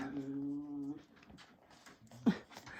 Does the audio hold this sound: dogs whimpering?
yes